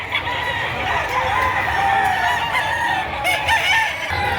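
Roosters at a livestock auction crow and cluck continuously, loud and close, with several birds overlapping against a dense crowd background.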